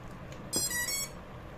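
A short burst of high electronic beeps from an RC receiver binding to its radio transmitter, a quick cluster of tones lasting about half a second, faint against a quiet background hum.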